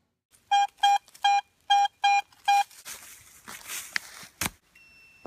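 A metal detector sounding over a buried silver target while searching for old relics: six loud, steady electronic tones in an even rhythm, followed by scuffing and digging noises.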